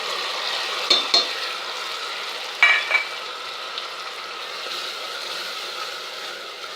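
A ground paste sautés in a pan for capsicum rice, with a steady bright sizzle and a few short scraping stirs near the start and middle, fairly loud and close.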